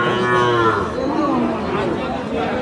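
Cattle low loudly and close by at the Aftabganj livestock market in Dinajpur, where Friesian heifer calves are sold. A drawn-out, wavering moo fills the short stretch over steady market background noise.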